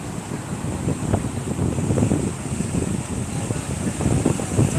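Sea waves surge and wash up Shankarpur beach in a continuous loud roar of surf, heavy wind buffeting the microphone throughout.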